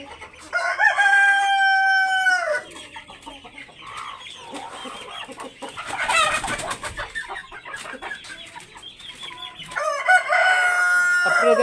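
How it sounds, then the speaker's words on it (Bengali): Hili hill chickens cluck nearby while a rooster gives loud, drawn-out crows at the start and again near the end, with busy clucking and fowl calls in between. "এই সেই অরিজিনাল হিলি মুরগি।"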